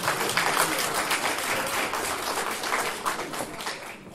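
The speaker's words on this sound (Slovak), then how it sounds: "Ďakujem veľmi pekne aj potlesk." Audience applause at a village event in Tŕnie, steady dense clapping filling the room from start to finish without pause.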